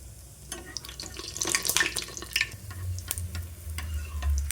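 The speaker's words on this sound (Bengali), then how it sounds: "তেল গরম হয়ে গেছে, তেলের মধ্যে একটা করে ছেড়ে দিলাম নান" Naan dough drops into hot oil for frying. A soft, close crackling sizzle with scattered sharp spits continues throughout, and a low rumble gathers beneath it toward the end.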